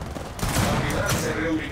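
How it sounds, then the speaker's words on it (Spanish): Gears of War 4 video game gunfire, a sustained burst of loud automatic shots and impacts, with faint game voice chatter mixed underneath. "Disparando."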